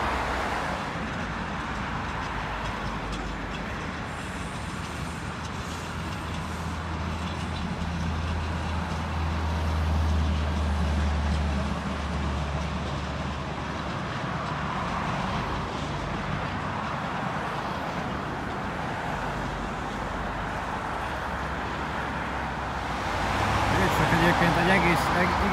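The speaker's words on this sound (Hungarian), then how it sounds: "Látható alul, hogy mennek az autók" Steady car traffic rumbles past below a busy junction at Spittelau in Vienna, a continuous roadway drone with a heavier vehicle swelling partway through, while someone talks over it.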